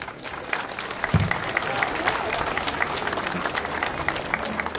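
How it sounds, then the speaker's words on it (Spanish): Audience clapping at the Señor de Áncara religious festival in Paucartambo, a dense, steady wash of applause from a crowd, with a voice briefly heard over it near the start. "Fuerte las palmas."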